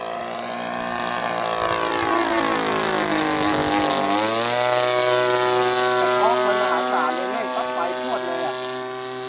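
A Sport Cruiser light aircraft runs its engine and propeller close by, a loud droning buzz with strong harmonics that sweeps down in pitch and then climbs and holds steady, like a run-up on the ground.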